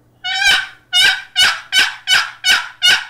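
A handmade turkey call with a cherry lid, walnut sides and cherry base gives six loud, high-pitched young-hen yelps in an even rhythm, each a sharp rising note, close and alone.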